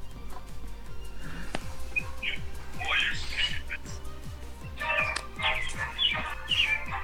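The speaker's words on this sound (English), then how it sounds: "The birds are here." Birds chirp and tweet in scattered short bursts in the background of a Pokémon Sun and Moon battle, beneath a steady stream of speech and game sounds.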